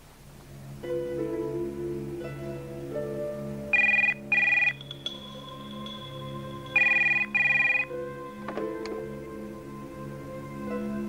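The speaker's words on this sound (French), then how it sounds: "J'espérais votre coup de téléphone, monsieur Schwartz" A telephone rings in two bright electronic bursts with a pause between them, heard over a sustained musical background in a French TV episode.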